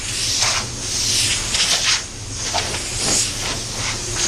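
A paint spray gun blows air across a Tesla car hood panel in a body shop, making a loud, continuous hiss that swells and eases in several surges. No one speaks.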